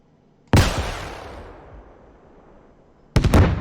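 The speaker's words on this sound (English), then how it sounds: "Look at that nice big explosion" A big explosion in a tank combat video game as an Abrams tank's ammo rack is hit: a loud sudden blast with a long fading rumble, then a second sharp burst near the end.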